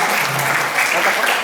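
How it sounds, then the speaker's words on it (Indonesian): An audience at an alumni talk at an Indonesian primary school claps in a dense, even burst of applause from many hands, fairly loud and close. "tepuk tangan dong"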